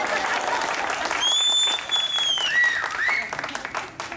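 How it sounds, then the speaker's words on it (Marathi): An audience at a stage comedy show claps in a dense, sustained wave of applause, with a whistle-like tone gliding over the crowd noise and people talking underneath. "यावेळेला टाळ्या असल्या पाहिजे."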